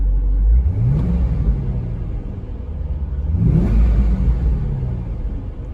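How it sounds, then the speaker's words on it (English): A stock C5 Corvette's deep V8 engine revs twice, each throttle blip rising sharply then falling back to a rumbling idle, loud and close with no talking. "here's the fierceness of a stock C5 Corvette"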